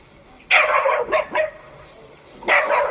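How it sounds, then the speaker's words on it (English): A neighbor's dogs bark in a yard, with a loud burst of barking, a few shorter yips and then another loud volley, heard close. "These daggone dogs."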